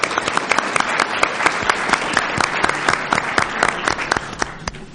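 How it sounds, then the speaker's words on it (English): An audience at a panel discussion applauds a panelist, a dense burst of many hands clapping steadily and close, with a faint murmur from the crowd. "If we can get a round of applause for each panelist"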